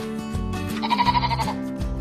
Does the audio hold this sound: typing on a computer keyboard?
no